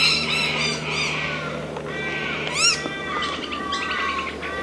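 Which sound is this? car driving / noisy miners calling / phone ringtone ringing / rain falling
noisy miners calling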